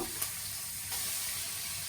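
Chopped onions frying in hot oil with bay leaves, cardamom and cinnamon give a steady, close hiss and sizzle with a brief stir near the start. The sizzle grows slightly louder midway, and no one speaks.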